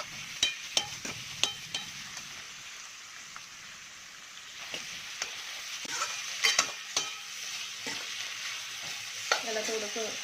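Cabbage and mixed vegetables for sambar are stirred in a pan, with scattered close scrapes and knocks giving way to a steady sizzling fry with continued spoon scraping.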